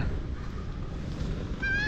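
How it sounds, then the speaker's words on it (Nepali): Ducks call from an artificial pond at Patibhara temple, Kanyam, Nepal, a honking quack rising near the end over a low, steady outdoor rumble. "यहाँ पोखरी छ हाँसहरू खेलिरहेछ"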